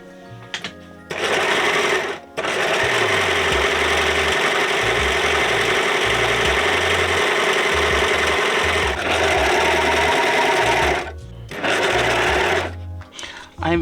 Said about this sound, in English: we're going to overlock the hell out of this